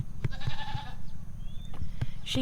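Goat bleating, a few faint wavering cries among regular soft thumps and shuffling close by, with no voices.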